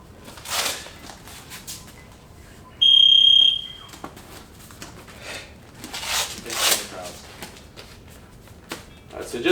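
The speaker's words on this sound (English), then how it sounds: "I'll put the timer on." A single long electronic beep from a Muay Thai class round timer sounds sharp and loud for about a second, with a person talking and moving around before and after it.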